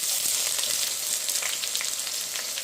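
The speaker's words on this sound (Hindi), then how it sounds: "प्याज डाल दिए, पूरा प्याज ब्राउन होने तक उसको छोड़ देंगे।" Onions frying in oil with curry masala and bay leaf for a liver curry, giving a dense, even crackling sizzle that holds close and steady throughout.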